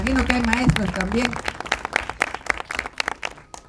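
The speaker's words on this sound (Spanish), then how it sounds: "Démosle un aplauso a las maestras de la escuela." Applause for schoolteachers at a vice-presidential visit to a village in Guatemala: a crowd claps in scattered, uneven bursts, starting under a voice and thinning into separate claps toward the end.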